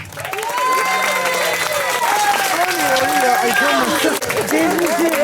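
Applause from an audience at a Christmas gathering, a steady wash of clapping and crowd noise under an amplified voice speaking over it throughout.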